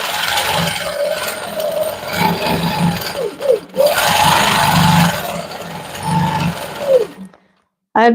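A sewing machine running free-motion quilting on a quilt, its motor whirring in bursts with shifting pitch as the stitching moves through a swirl, close and loud, pausing briefly near the end; a voice talks faintly beneath.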